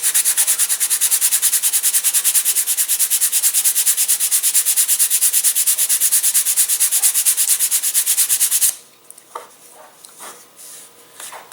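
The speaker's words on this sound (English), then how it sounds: "And then just sand it down." Sandpaper rubs rapidly back and forth on a balsa wood part for an elastic-launched glider, a fast rhythmic scratchy stroking held close and steady for most of the clip, then stopping and giving way to light handling noises.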